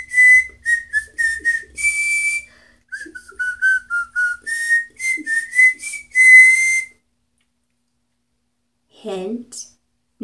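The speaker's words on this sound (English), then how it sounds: "this is tomorrow's tooth whistle" A high, clear whistled tune made through the teeth, in quick phrases of short and held notes, ending with a brief bit of speech.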